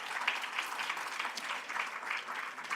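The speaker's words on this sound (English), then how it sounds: "Please clap it up for Elijah Salter." Faint, distant applause from an audience at a school district sports awards ceremony, a steady patter of clapping with no voices over it.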